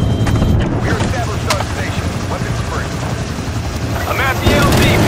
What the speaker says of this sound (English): Chopper inbound to Omega Base.